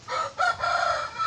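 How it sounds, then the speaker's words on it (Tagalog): A rooster crows nearby in a drawn-out call, with hens clucking close by. "Daming manok."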